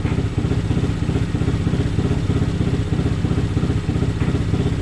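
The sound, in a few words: Honda Grom motorcycle engine rumble after ECU tuning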